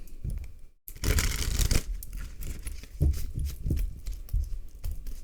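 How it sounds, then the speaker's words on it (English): A deck of French-language tarot cards being shuffled by hand, giving repeated close, crisp riffling and crinkling bursts after a brief pause, with no talking. "Okay, one more good shuffle."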